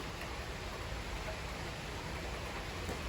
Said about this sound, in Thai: ตอนนี้ฝนกำลังตกนะคะ